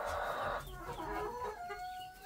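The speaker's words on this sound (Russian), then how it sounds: "Залез, давай кукарекай" Chickens clucking and a rooster calling at a farm poultry coop, a loud burst at the start followed by softer fowl calls and clucks, with no one talking.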